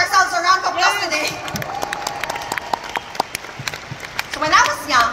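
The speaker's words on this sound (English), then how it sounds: "Can we all give ourselves a round of applause today?" Applause from a crowd, dense clapping spread across the clip, with voices speaking over it at the start and again at the end.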